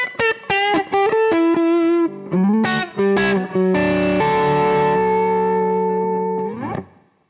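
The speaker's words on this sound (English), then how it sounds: "So much for the sounds that you can get out of the preamp through a solid state power amp and a speaker." Electric guitar through a Brunetti Mille CR preamp, a solid state power amp and a speaker, with plucked notes and short chord stabs that lead into long sustained distorted chords, the last one ringing out and fading.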